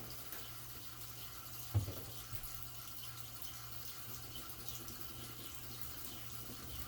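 A tap runs water while a brush is rinsed, a faint steady hiss of flowing water with a low hum beneath and one brief clunk early on.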